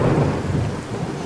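A deep, continuous rumble of thunder with steady rain hissing underneath, loud and enveloping throughout.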